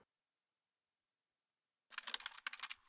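After nearly two seconds of silence, a quick burst of typing on a computer keyboard starts up nearby, with rapid, uneven keystrokes and no speech.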